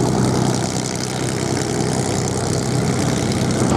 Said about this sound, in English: The X-ray Hangar aircraft, still owned by the old Flying Machine Company.